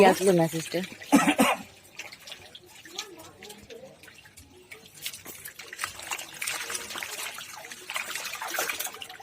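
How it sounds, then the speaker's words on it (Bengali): Water drains from a chick brooder with a faint, intermittent trickle and dribble, mixed with scattered clatter and a voice talking nearby. "জলটা কমে দিয়ে পুরোটাই তুলতে হবে"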